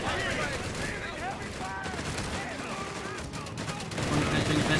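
Barrages of German Whizbang rocket artillery in the WWII strategy game Company of Heroes 3, dense overlapping booms and whooshes with gunfire swelling toward the end, a voice talking over the battle.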